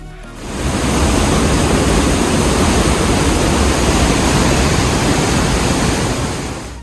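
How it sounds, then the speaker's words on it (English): Lower Falls waterfall in a Banff canyon, raging water heard up close as a loud, dense, continuous roar that swells in and holds steady with no voices. "Being this close to the raging water is a mood of its own."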